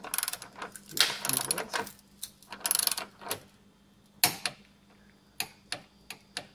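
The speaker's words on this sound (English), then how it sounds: "the torque setting for these top nuts is 29 foot-pounds each. Torque wrench on there" Torque wrench ratcheting as strut top nuts are tightened on a Toyota MR2 Spyder, close bursts of rapid clicking followed by a few sharp single clicks.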